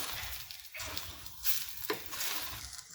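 Ghee sizzles on an aloo paratha in a hot pan, a close, steady hiss broken by brief scraping stirs and flips.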